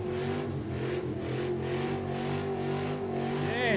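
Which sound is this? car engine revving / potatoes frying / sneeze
car engine revving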